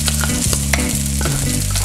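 Garlic and rice fry in hot oil in a wok for fried rice with shrimp and Chinese sausage, giving a loud, steady sizzle with repeated scraping stir strokes close by and no talking.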